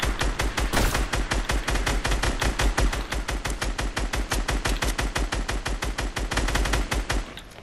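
Rapid automatic gunfire in Fortnite fires as a dense, fast string of sharp shots for most of the time. There are brief pauses, and it stops abruptly just before the end.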